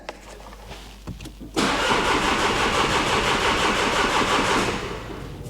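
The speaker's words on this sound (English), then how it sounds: "It's cranking properly now." A car's replacement engine, fitted after flood damage, cranks in a few short bursts and then catches and runs steadily and loud for several seconds before easing slightly toward the end.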